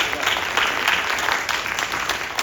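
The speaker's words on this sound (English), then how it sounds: "Let's give them another round of applause." An audience at a panel discussion after a film screening claps steadily, a dense, continuous round of applause from a crowd.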